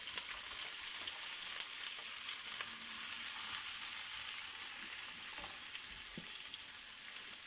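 Onions frying in a thin drizzle of olive oil for a Portuguese-style cebolada, a steady, even sizzle with faint crackles and occasional soft stirring clicks close by.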